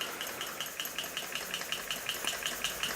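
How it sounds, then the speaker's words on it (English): A restored 1920s Elektro model steam engine runs under steam, giving a steady rapid chuffing beat of soft hissing puffs, close and continuous, with no talk. "1920s Elektro model steam engine. Under steam for the first time since its restoration."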